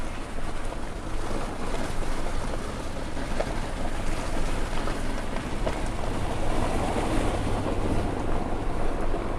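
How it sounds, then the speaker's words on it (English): Runoff water rushes down Mill Creek on Grassy Mountain in winter, a steady broadband roar with a wind-like hiss that holds level and continuous throughout, with no voices. "Water rushing down there, runoff,"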